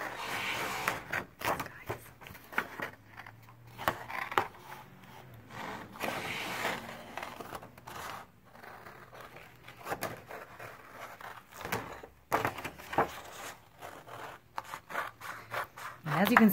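Scissors snip and slice through material in short, uneven bursts, close by, with brief pauses of quiet handling in between; a voice speaks faintly at times.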